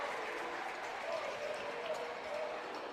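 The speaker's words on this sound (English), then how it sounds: "turn them up a little bit, you hear the crowd." A crowd in a gym below roars and cheers steadily before a high school volleyball game, South Medford at North Medford, a constant distant wash of noise with no clear breaks.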